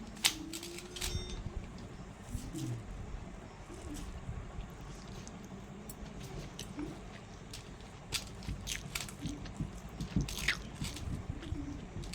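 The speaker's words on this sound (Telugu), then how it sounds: "ఇప్పుడు ఈ కర్రీ టేస్ట్ ఎలా ఉందో నేను మీకు తిని చూపిస్తాను" Someone chewing a mouthful of bitter gourd curry, with soft wet crunching and biting sounds repeating irregularly up close, punctuated by small clicks and lip smacks in a quiet room.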